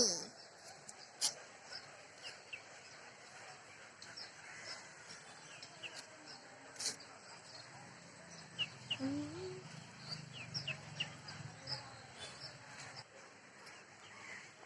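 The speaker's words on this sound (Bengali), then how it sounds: "আমাদের বাসার মুরগি" Backyard household chickens with faint, scattered clucks and bird calls over a steady hiss of outdoor ambience, quiet and somewhat distant throughout.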